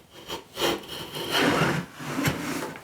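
A hand plane takes a single pass along a narrow wooden board, giving a close, continuous shaving hiss that swells and fades over a few seconds with no voices.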